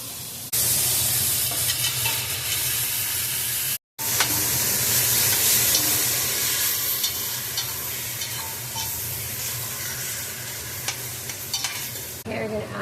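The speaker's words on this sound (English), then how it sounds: "Add the onions. Let it cook. Add the hamburger meat." Onions and hamburger meat fry in a pan on an RV stove, a loud, continuous sizzle with crackling spits, broken by one brief silent gap, stirring scrapes now and then.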